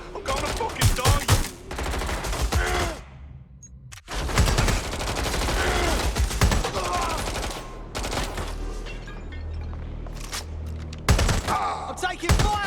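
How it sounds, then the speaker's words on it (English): Heavy gunfire rattles through a firefight in the video game Watch Dogs Legion on PS5, loud rapid bursts broken by short pauses, with voices and thuds mixed into the chaos. "I'm taking fire!"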